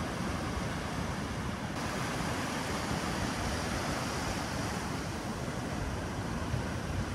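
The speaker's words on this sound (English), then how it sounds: "Wow, the waves are wild today." Wild ocean surf at a beach blends with gusting wind into a steady, dense roar that never lets up, loud and close, with no voices.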